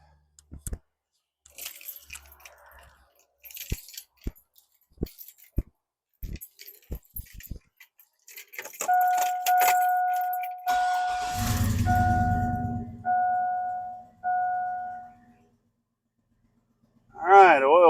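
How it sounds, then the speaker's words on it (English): Keys jangle and clink in short bursts, followed by a Chevrolet Tahoe engine cranking and catching, then running with a steady low rumble and intermittent tones, ending in a brief loud burst. "All right. Start it, then we'll check the dipstick."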